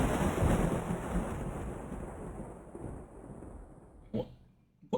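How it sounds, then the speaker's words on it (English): A loud, sustained rumble of thunder in the video game Sprunki rolls through, broadband and heavy, slowly fading over several seconds, with a couple of sharp bumps near the end. "I hear an incredibly loud clap of thunder."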